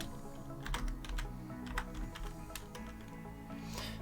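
Rapid typing on a computer keyboard, a close, steady clatter of key presses with a few sharper taps, under a faint background hum and no voices.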